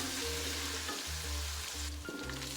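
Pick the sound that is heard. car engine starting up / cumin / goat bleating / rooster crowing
cumin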